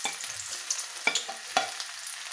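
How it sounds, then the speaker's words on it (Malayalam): Chopped garlic fries in hot coconut oil with a soft, crackling sizzle, broken by a few sharp spoon clicks against the pan, close and quiet. "നമ്മുടെ എണ്ണയൊക്കെ ചൂടായി വന്നിട്ടുണ്ട്. നമുക്ക് ഇതിനകത്തേക്ക് വെളുത്തുള്ളി അരിഞ്ഞത് ചെയ്യുന്നത് ഇട്ട് കൊടുക്കാം."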